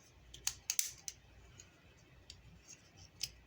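Small plastic clicks and snaps as a Bakugan Geogan Rising Darkus Sky Horse toy piece is folded in, a few quick faint taps close by over quiet background hiss.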